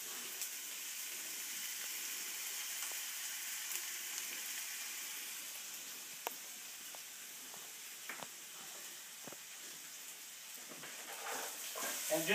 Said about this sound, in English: we're going to put inside the carrots. Oh, they sizzle beautiful.